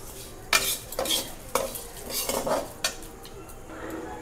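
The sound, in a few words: vermicelli being fried and stirred in ghee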